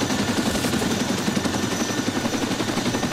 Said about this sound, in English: Alright guys, fourth chopper, we're good.